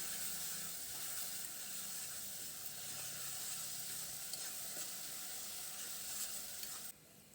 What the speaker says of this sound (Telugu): తురిమి పెట్టుకున్న ఉల్లిపాయ పేస్ట్ని వేసుకుని ఉల్లిపాయ పేస్ట్ని దోరగా మగ్గించుకోవాలి